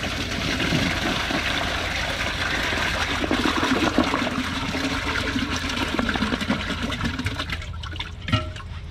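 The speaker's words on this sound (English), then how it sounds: "We'll be back for the second flush." A second toilet flush carries thick tissue paper down in a loud, continuous rush of swirling water that holds steady for most of its length, then drains into trickling and a brief knock at the close.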